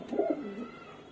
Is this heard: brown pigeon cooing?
yes